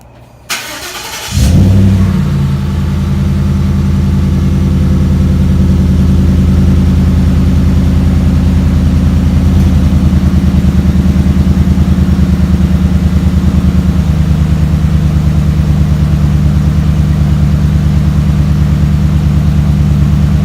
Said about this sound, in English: did a cold start the following morning, and this is what that sounded like